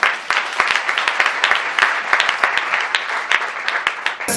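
A church congregation breaks into steady applause, many hands clapping loudly and evenly throughout before stopping abruptly at the end.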